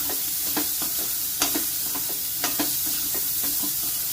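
Boiled yam, carrot and seeds are mixed with a spatula in a hot pan, giving repeated scraping strokes over a loud continuous sizzle.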